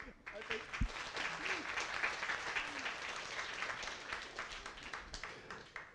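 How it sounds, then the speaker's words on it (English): Conference audience applauding after a talk, a dense spread of handclaps sustained for several seconds at moderate distance in a hall, fading slightly toward the end. "Applause for that."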